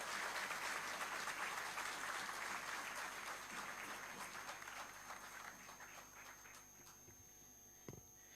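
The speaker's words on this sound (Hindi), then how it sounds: "तालियां रुकनी नहीं चाहिए।" Crowd applause at a youth budget dialogue event, loud and continuous at first, then gradually thinning and fading toward the end, with a brief knock near the close.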